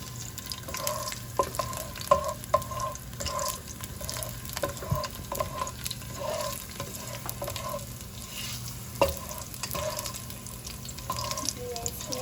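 Beef stir fry with ginger and garlic sizzles and pops steadily in a hot pan, with scattered crackles and the occasional scrape of stirring.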